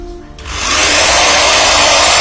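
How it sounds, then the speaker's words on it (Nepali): A quiet moment gives way to a loud, steady high-pitched whine of an electric drill boring a hole to fit a hand guard with LED side light, running continuously at close range. "भर्खर जुन ड्रिल गरेर हेर्नु पनि तपाईँहरूले"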